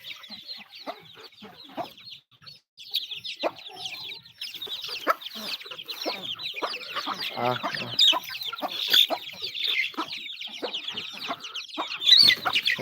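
Chickens on a farm cluck and chatter while eating, many birds calling at once in a loud, continuous jumble of short clucks and higher chirps up close.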